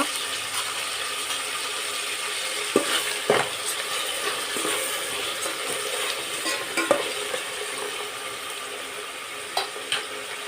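Chopped onions with salt frying in a pan for Muslim-style chicken biryani, a steady close sizzle with occasional scraping clicks of a spoon stirring, no voices.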